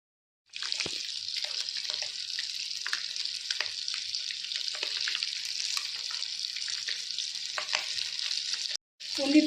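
Eggs frying in hot oil for egg masala, a loud, continuous close sizzle with crackling pops and occasional stirring, broken by a short pause just before the end.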